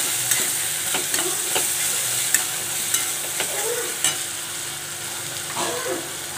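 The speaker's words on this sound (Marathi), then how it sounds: "मीठ टाकल्यावर छान परतून घ्यायचं परत एकदा." A cucumber mixture, salted and being stir-fried in a pan for a cucumber zunka, hisses steadily, with sharp spoon clicks and scrapes against the pan at irregular intervals.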